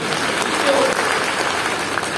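A congregation claps steadily through a church service, a dense sustained wash of applause with a voice faintly mixed in.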